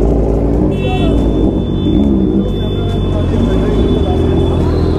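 Dense engine drone from a large group of motorbikes riding past close by, a steady loud rumble with layered revving throughout and a voice talking over it.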